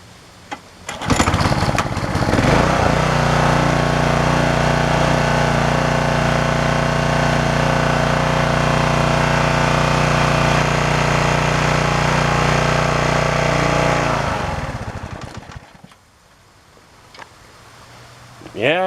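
A pressure washer's small gasoline engine pulls into life and runs at a steady, loud, even drone for about twelve seconds, then cuts off and falls quiet near the end.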